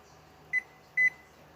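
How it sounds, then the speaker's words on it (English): A kitchen timer gives two short, clear electronic beeps about half a second apart as its buttons are pressed while it is set, over a quiet room. "Now I'm going to set the timer"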